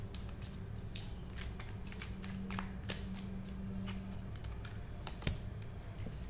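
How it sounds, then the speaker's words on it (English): A tarot guidance card is drawn from a deck, giving soft, faint papery shuffles and a few quick crisp card flicks and taps close by in a quiet room. "Let me pull a guidance card for you."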